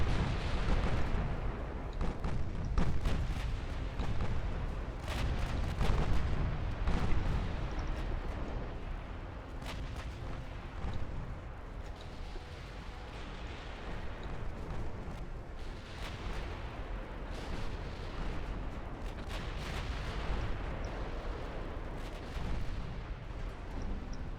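16-inch naval guns firing in Ultimate Admiral Dreadnoughts, a dense, continuous barrage of deep booms and rumbling blasts layered over one another, loud and close with no pauses throughout.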